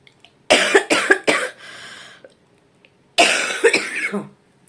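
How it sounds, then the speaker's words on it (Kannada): Two bursts of harsh, repeated coughing up close, a quick series of hacks then a rasping pause, followed by another fit. "ಕೆಮ್ಮು ಬಂತು ಅಂದರೆ ಅಲ್ಲೇ ನೋವು ಬರುತ್ತೆ ಅಷ್ಟು ಕೆಮ್ಮು ಬರುತ್ತೆ"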